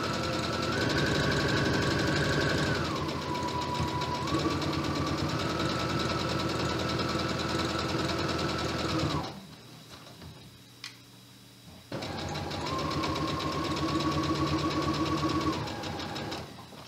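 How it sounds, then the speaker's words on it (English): A sewing machine set to a long straight stitch runs steadily along the edge of duffle bag straps with a fast even ticking hum, pauses for a few seconds, then resumes stitching close by. "I'm going to sew right on the edge of each strap"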